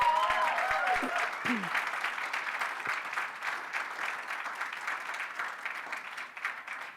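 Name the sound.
applause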